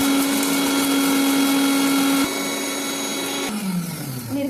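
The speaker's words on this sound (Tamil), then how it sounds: "வதக்கினதுக்கு அப்புறம் மிக்ஸி போட்டுக்கணும் கொஞ்ச நேரம்." Mixer grinder running steadily and loud while grinding roasted spices for tomato chutney, a sustained motor whine that shifts pitch partway through and winds down toward the end.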